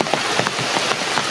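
Rain falling steadily outdoors during an afternoon exploration, a dense, even hiss broken by scattered close droplet taps, with no voices.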